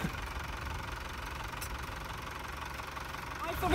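Volvo Penta TMD 22 marine diesel engine running steadily after a timing belt, water pump and pulley replacement, a continuous low knocking idle with vibration, fairly close, growing slightly louder at the end.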